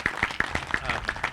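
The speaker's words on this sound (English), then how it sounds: "If we can give them a round of applause" A handful of people clap in a brief, scattered round of applause at an annual town meeting, each clap distinct and fairly close.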